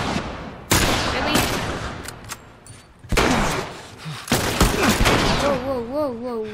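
Several loud gunshots from The Last of Us Remastered, with sharp blasts spaced across the clip, ringing tails, and a wavering tone rising near the end.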